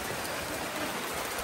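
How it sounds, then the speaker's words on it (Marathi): Heavy rain pours steadily in the grounds of the Chivari Mahalakshmi temple. It makes a dense, even hiss with no breaks or voices. "मंदिराच्या परिसरामध्ये भरपूर असा पाऊस जोरात चालू आहे"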